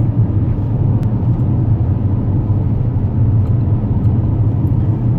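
Steady low rumble of a car moving along the road, heard from inside the cabin, with continuous engine and road noise, loud and even throughout, with a few faint ticks.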